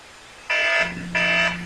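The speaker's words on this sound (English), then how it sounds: "that's my timer going off" A kitchen timer goes off with two loud electronic beeps about half a second apart, each a bright sustained tone, close by in an otherwise quiet room.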